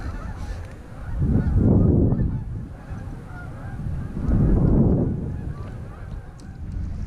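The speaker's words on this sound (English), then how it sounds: "Wow, have some geese." Two loud swells of geese honking over a lake, one after the other, rise above a constant background of wind and then fade away.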